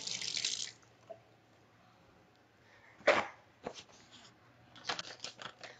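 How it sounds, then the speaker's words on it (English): Hands are washed under a running tap, with a short burst of flowing water at the start. After a quiet pause come intermittent splashes and drips, close and fairly soft. "I have to wash my hands."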